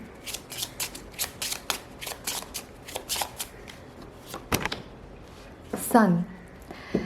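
Tarot cards being shuffled by hand, a rapid run of crisp riffling bursts in a steady rhythm, close and clear, followed by a brief slide and snap as a card is drawn.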